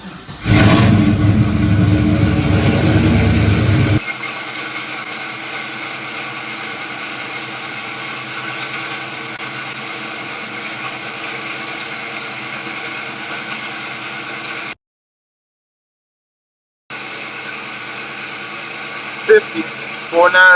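A supercharged Pontiac GTO fires up from cold with a loud burst of revving, then settles into a steady, even idle, with short gaps and a couple of sharp blips near the end.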